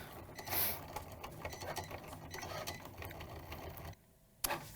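A Cricut cutting machine slicing hat material, a soft steady mechanical whir and ratcheting hum with faint clicks, running continuously before stopping near the end with a final clunk.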